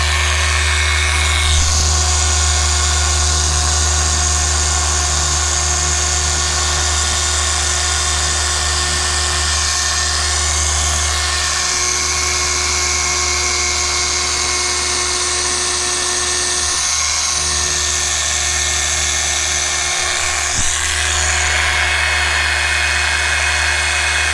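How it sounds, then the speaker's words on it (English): A rotary polisher spinning a pad across the paint of a 2018 Ford Raptor, a loud, continuous high whine held close for the whole stretch, its pitch wavering slightly as pressure changes, with no voices. "My pad stopped spinning, so I need to release a little pressure."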